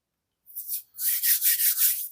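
Diecast toy parts, a Corgi 267 Batmobile, rubbed with a brush or cloth to spread paint stripper, giving a short dry scrape followed by a run of quick rhythmic scrubbing strokes, close and fairly loud with no talking.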